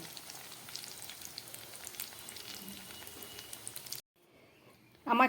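Chicken pakoras fry in hot oil with a close, steady bubbling crackle. The frying stops abruptly, followed by a brief quiet and a short burst of voice at the end.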